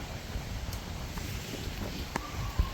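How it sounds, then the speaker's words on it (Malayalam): Strong, cool wind blows across a home garden plot where tapioca and taro are being planted. It comes as a low, gusty rumble buffeting the microphone, fairly quiet and unbroken, with no voices. "ഭയങ്കര കാറ്റ് കേട്ടാ"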